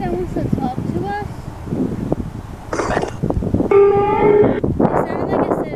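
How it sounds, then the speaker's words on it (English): Outdoor wind buffets a microphone beside a road at a cemetery, a rough rumbling roar with gusts throughout, while people talk quietly underneath. "Sorry about the wind, you guys."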